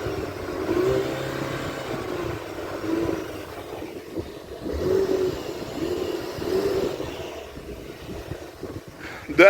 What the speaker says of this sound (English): let's go ahead and just rev it up just a little bit and let's listen to that 4-cylinder